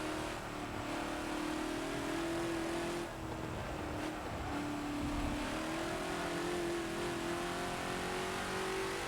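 A TNT GT40 race car engine in Forza, on the Le Mans Old Mulsanne track, drones steadily, its pitch rising and dipping as the throttle rolls on and off, with a brief lift near the middle; no talk.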